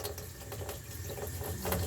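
Water flowing down a freshly unclogged kitchen sink drain, a faint, steady rushing and gurgle heard close up with no talk.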